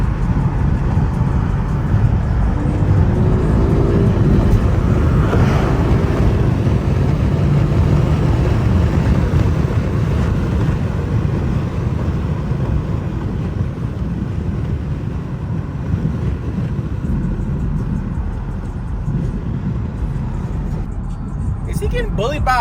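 A Honda car speeds past on a road, its engine and tyre roar loud and steady throughout under dense traffic noise, with people talking over it.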